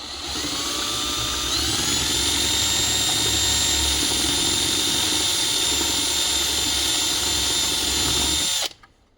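A power drill whines at high speed for several seconds while drilling out rivets in aluminum, its pitch rising slightly as the bit bites, then cuts off abruptly near the end.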